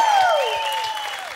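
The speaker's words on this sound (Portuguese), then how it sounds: "uma salva de palmas pra eles" An audience claps and cheers for two performers at a hip-hop show. A loud whooping voice slides downward over a dense wash of clapping that fills the whole moment.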